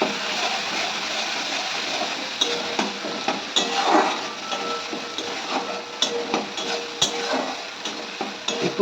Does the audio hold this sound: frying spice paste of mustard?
yes